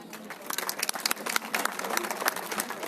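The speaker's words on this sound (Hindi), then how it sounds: "जोरदार तालियां बजा दीजिए" An audience at a youth conference claps in a brief burst of scattered applause, with dense overlapping hand claps at moderate distance.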